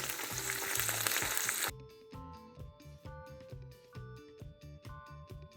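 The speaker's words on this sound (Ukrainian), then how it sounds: "І будемо смажити з двох сторін до такої золотистої скоринки до готовності" Chicken liver sizzles loudly in a pan for a couple of seconds, then the frying cuts off and soft rhythmic music carries on.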